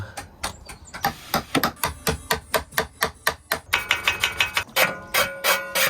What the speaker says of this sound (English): I'm chiseling.